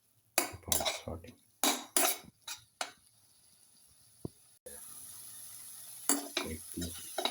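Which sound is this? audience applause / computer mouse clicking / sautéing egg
sautéing egg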